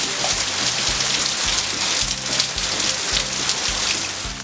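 Steady rain falls on surfaces on a rainy Louisiana day, a dense continuous hiss with no voices.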